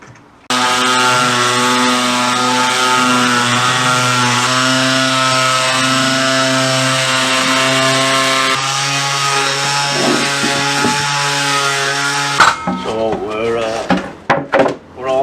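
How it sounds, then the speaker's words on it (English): A power sander whines steadily at close range for several seconds with a strong droning hum while sanding wooden drawer parts, then cuts off, followed by a few knocks and people talking. "we're going to get these sanded off now"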